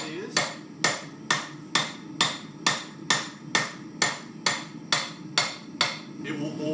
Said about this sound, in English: So whenever you're hammering on a flat surface,